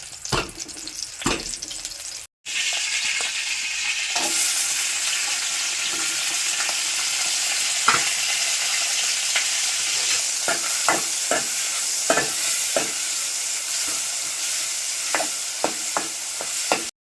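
Chicken fries in a pan with green chili, a constant bright sizzle broken by repeated scraping strokes of a spoon, with one brief dropout near the start.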